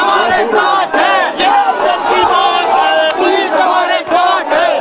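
A dense crowd at a political rally roars and shouts continuously in loud, overlapping waves, with brief dips between surges of massed voices.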